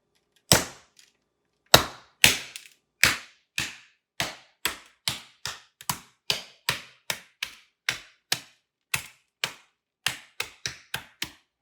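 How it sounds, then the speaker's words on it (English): Rock candy is struck with the spiked side of a meat tenderizer, giving about twenty sharp, separate cracking blows, irregular at first and then quicker, close and crisp against silence. "is break this up to form our crystals. So I'm going to do that with a meat tenderizer."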